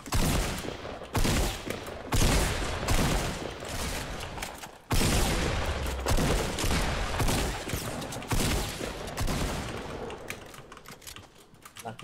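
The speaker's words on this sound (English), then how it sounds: "Someone's shooting us from the other side." Fortnite gunfire rattles in dense, sustained bursts broken by brief pauses, loud and close, with clicky rapid transients and almost no talk.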